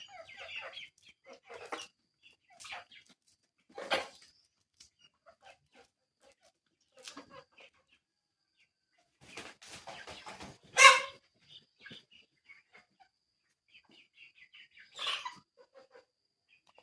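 Hens and roosters on a rooster farm give scattered clucks and short calls, spaced irregularly with quiet gaps, and one louder, sharper squawk near the middle; the birds sound fairly close, with no talking.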